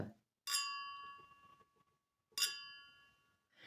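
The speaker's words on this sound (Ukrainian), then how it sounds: "Такий дзвін йде." Two clear ringing tones as a flea market dish is tapped, each a bright bell-like strike that decays slowly, about two seconds apart, with a third tap starting at the very end.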